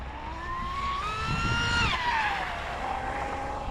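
A small electric RC boat motor, a 4074 2070 kV on 4-cell power in a Zippkits G-30, whines loudly and steadily, its pitch climbing, then dropping and fading slightly as it runs.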